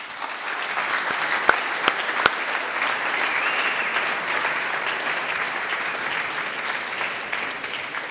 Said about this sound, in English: Please give them another round of applause before I ask them questions